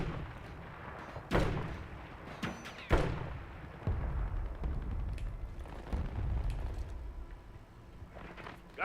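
Gunfire in a first-person shooter game: sharp shots and heavy thumps at irregular intervals, with booming hits near 1.3 and 3 seconds over a dense, rumbling battle background, and no voices.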